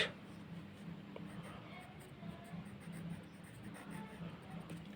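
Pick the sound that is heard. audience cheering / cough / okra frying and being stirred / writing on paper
writing on paper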